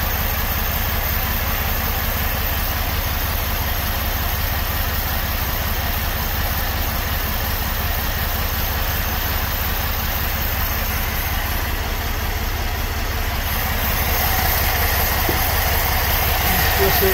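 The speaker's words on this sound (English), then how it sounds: "So we're running on straight gum-out carb cleaner right now." A Chevrolet Equinox V6 engine idles steadily while running on straight Gum-Out carb cleaner during injector cleaning, a loud continuous low rumble with an even pulse that holds for the whole stretch with no voices.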